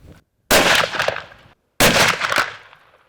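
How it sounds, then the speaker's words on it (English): Two loud rifle shots fired outdoors while test-shooting the gun's grouping, each a sharp blast with a booming tail that fades over about a second, separated by a brief silence. "I want to try to shoot another one right in the same spot"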